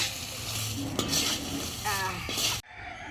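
Ingredients roast in hot oil with a bright, crackling sizzle and a clatter of a spoon against the pan close by. The sound cuts off abruptly near the end, leaving near silence.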